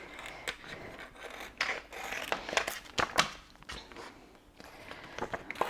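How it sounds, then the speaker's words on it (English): Scissors snipping around excess vinyl for a personalised drawstring bag, close and quiet, a series of short crisp cuts with light crinkling of the sheet. "I'm just going to gently cut round it, making sure that I don't cut into my image."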